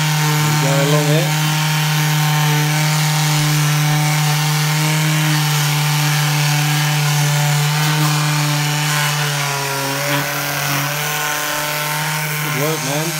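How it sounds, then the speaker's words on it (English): Electric sander working wood during a Toylander Willys jeep build, a loud steady motor hum running continuously under intermittent talk, with pitch wavering as pressure shifts. "Keep the sander flat."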